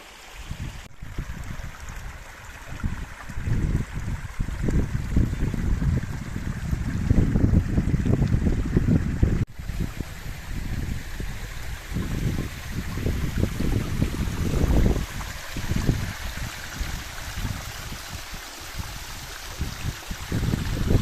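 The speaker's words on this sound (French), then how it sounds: "le ruisseau rouge il s'arrête là et après hop c'est fini" A red mountain stream flowing from a volcanic spring on the Puy de Sancy: a steady, close rush of running water mixed with wind buffeting the microphone, continuous throughout with surging low-end swells.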